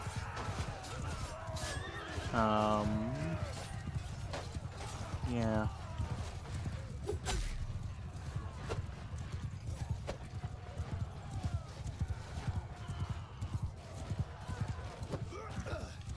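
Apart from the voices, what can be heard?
horses neighing and hooves clip-clopping in Bannerlord video game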